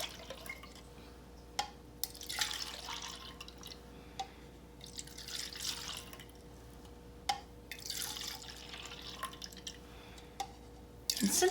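Liquid poured back and forth between cups to mix a cornstarch chemistry clock solution: repeated splashing pours and drips in bursts, close and moderately quiet, with a steady hum underneath.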